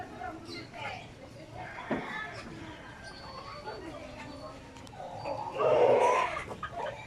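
Chickens cluck and murmur close by, with a louder burst of fowl calls near the end, over a quiet outdoor background.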